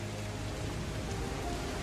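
Steady rain falling in a jungle, a dense, even hiss of drops that continues without a break, moderately quiet and unaccompanied.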